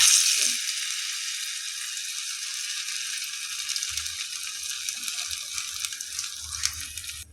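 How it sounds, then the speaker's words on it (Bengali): Beguni, eggplant fritters, frying in hot oil in a small pot, a steady bright sizzle throughout with a few soft knocks and bumps of handling, close, with no talk. "এবারে আমি একে একে বেগুনিগুলো ভেজে নেব।"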